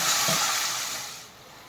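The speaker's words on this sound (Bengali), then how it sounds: "এবার আমি এর সাথে অ্যাড করে দিচ্ছি একটু জল, গ্রেভিটা বানানোর জন্য" Water poured into sizzling fried masala for a prawn and jackfruit kofta curry gravy sends up a loud, bright hiss of frying and steam that gradually fades and settles.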